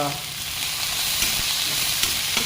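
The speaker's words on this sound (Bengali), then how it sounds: "রসুন, আদা, পেঁয়াজ এগুলো তেলের মধ্যে দিয়ে দিলাম।" Chopped garlic, ginger and onion frying in hot oil for a quick Chinese-style dish give a loud, continuous close sizzle with a few faint stirring knocks.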